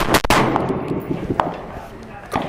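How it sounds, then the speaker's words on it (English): A SIG Sauer MCX-Spear rifle with a 16-inch barrel fires 6.5 Creedmoor rounds at SHOT Show 2023: a loud, sharp report near the start with a decaying tail, then fainter cracks spaced across the rest. "it shoots pretty soft, so let's shoot one more"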